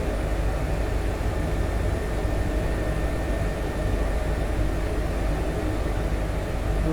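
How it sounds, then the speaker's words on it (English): An Airbus H145 helicopter in flight gives a loud, steady, unbroken drone of rotor and turbine noise, with no voices, while it moves forward and descends. "Moving forward and also lowering the helicopter."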